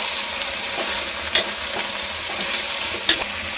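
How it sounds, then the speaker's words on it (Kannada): Mutton pieces frying in hot oil with onions, a steady broad sizzle with a couple of sharp clicks of a spatula against the pan, close and continuous with no talking. "ಈರುಳ್ಳಿ ಫ್ರೈ ಆದಮೇಲೆ ಇದಕ್ಕೆ ತೊಳೆದಿಟ್ಕೊಂಡಿದ್ಮೇಲೆ ಮಟನು ಇದನ್ನು ಇದಕ್ಕೆ ಹಾಕ್ತಾಯಿದ್ದೀನಿ. ಸ್ವಲ್ಪ ಹಸಿ ವಾಸನೆ ಹೋಗೋದಂಗೆ ಎಣ್ಣೆಲ್ಲೇ ಹುರ್ಕೊಂಡೋಣ"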